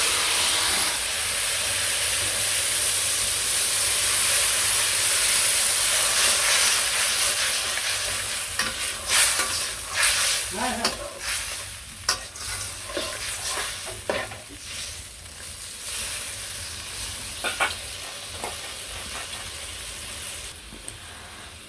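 Vegetable curry with fish simmering in a pan on a village cooking fire after water is added, a steady loud sizzling hiss that gradually settles into bubbling with scattered spits and clinks of stirring, no voices.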